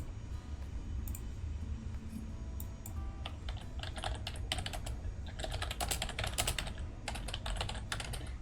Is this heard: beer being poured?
no